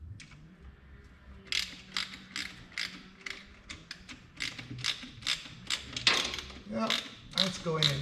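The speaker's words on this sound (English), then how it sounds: "Let me gently put a ratchet on there." A ratchet clicks in quick, repeated bursts while working a bolt on a C10 transmission in a 1970 truck, close and crisp, with a few longer runs of clicks and some faint background movement.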